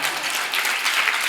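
A convention audience at a fan event bursts into steady, dense applause, many hands clapping together at fairly close range with no voices on top.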